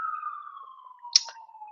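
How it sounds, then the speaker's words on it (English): A single steady wailing tone from a siren outside in East Harlem, faint and distant, holding nearly level with a brief click partway through. "sorry if you can hear that siren out there"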